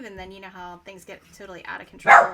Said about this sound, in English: Sorry for the loud barking.